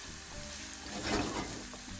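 Onion frying in a pan for Egyptian shakshuka, a continuous close sizzle that swells slightly in the middle, with no talking.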